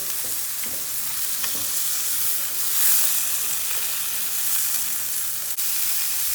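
Chicken rolls frying in a pan, a steady close sizzle with a few soft scrapes and clicks as they are turned over, no voices.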